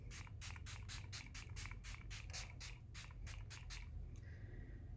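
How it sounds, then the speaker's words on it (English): A Too Faced Hangover 3-in-1 primer spray is misted onto a face in a quick series of about a dozen short, hissing pumps, close and fairly soft over a low steady hum. "It's a spray, it's super light, so spray that on my face."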